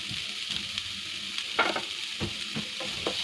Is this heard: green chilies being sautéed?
yes